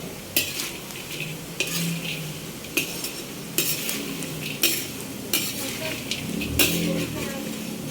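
French fries sizzle in hot oil while a utensil stirs them, giving a steady frying hiss broken by repeated sharp scraping knocks against the pan, close up, with faint voices underneath.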